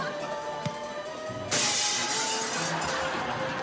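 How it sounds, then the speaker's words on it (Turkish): A window pane shatters from a thrown stone in a city neighbourhood, a sudden loud crash about midway followed by a spray of falling glass fragments. "Camlarımızı taşlıyorlar."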